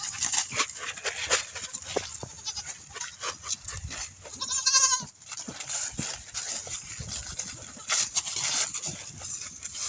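Goats on a farm bleat in a busy outdoor scene, one clear drawn-out bleat standing out midway among scattered animal calls and rustling.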